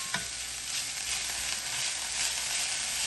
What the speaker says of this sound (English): Right now, I'm cooking the potatoes, not all the way